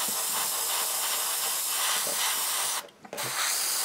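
An airbrush sprays green paint onto a Spitfire scale model, giving a steady close hiss of air that cuts out briefly near the end and then resumes.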